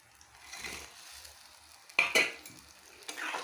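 Fish added to a pan with mustard paste and water and left cooking, heard as a soft, close bubbling simmer marked by a couple of sharp utensil clinks and a brief splash, with no talk.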